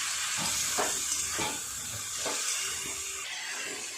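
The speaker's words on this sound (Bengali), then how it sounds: "খুব ভালো করে সমস্ত সবজির সাথে মশলাগুলো নেড়ে চেড়ে কষিয়ে নেব।" Vegetables and spices sauté in a pan with a steady, loud sizzle and steamy hiss, broken by a few soft stirring scrapes, with no talking.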